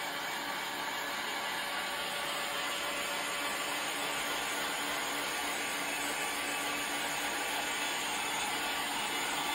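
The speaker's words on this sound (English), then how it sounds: "So we get the heat gun. I'm just going to dry the paint a bit." A heat gun blows continuously to dry freshly sprayed paint on a glass pane, a steady, even, airy whir that holds at one level with no breaks and no talking.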